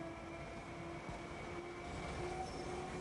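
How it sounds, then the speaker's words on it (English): Modern Swedish-made passenger train, a steady low rumble with a faint high tonal whine, heard close and continuous with no voices. "We also manufacture this train."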